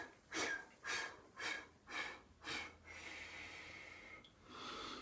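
Staccato breathing in a chi kung Pilates exercise: five sharp, forceful exhalations in an even rhythm, followed by one longer, steady breath and a final push of air, close and alone.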